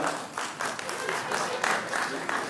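Audience applause at a stand-up comedy show, steady broadband clapping sustained throughout with slight swells, fairly close and loud, no voices over it.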